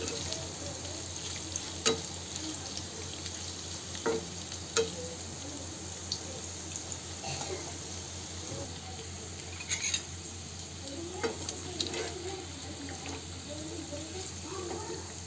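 Paneer fries in oil in a pan for a kaju paneer masala, a steady close sizzle broken by occasional pops, taps and stirring clinks.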